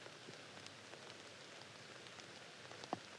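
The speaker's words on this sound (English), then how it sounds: "You can hear the rain coming down" Quiet, steady rain falls outdoors on a wooded disc golf course, a soft continuous hiss with scattered drop taps and one sharper tap near the end, heard without any talking.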